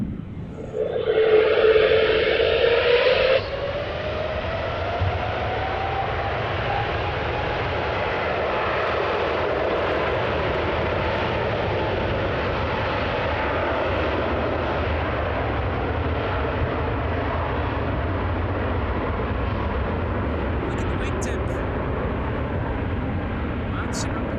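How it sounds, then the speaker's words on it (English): A Vueling airliner takes off at Amsterdam Schiphol, a loud, sustained engine roar with a slowly rising whine that swells briefly early on, then holds steady. "This is Vueling flight 6814. No, it's going to take off."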